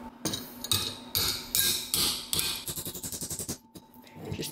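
Hammer tapping a metal piece to bend it into a circular shape for a homemade engine crankcase, a run of sharp close metallic strikes, starting irregular and ending in a quick even series of taps.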